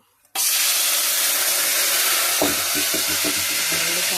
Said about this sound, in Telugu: నూనెలో వేగుతుంది ఫ్రెండ్స్ ఎండి చేపలు